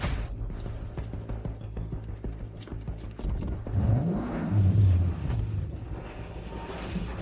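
A car engine drives past and revs, with a rising, swelling whine that peaks near the end, then settles into a lower rumble alongside mechanical clicks.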